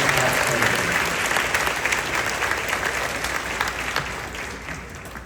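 Audience at a middle school eighth grade graduation ceremony applauds steadily, a dense, sustained clapping that stays loud throughout and fades slightly toward the end.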